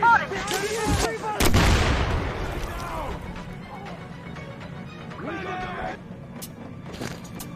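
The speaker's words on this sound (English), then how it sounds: "Open fire!" Loud gunfire and heavy blasts in the video game Metro Exodus, sharp bursts up close followed by rumbling booms and scattered shots, with voices shouting over the fighting.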